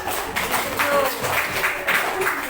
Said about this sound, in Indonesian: Ya, tepuk tangan untuk Bapak.